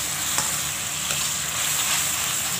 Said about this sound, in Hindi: अभी मैं इसमें टमाटर की प्यूरी डाल रही हूँ, अच्छे से मिक्स कर देना है इसको